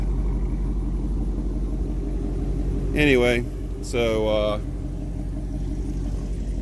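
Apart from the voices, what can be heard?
car exhaust idling deep rumble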